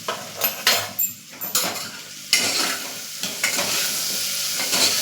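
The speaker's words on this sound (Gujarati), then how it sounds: "અને બરાબર મિક્સ કરી લેશું" A spoon scrapes and clinks against a pot while turmeric and salt are stirred into farali moraiya khichdi, giving a rhythmic run of close stirring strokes over a light sizzle.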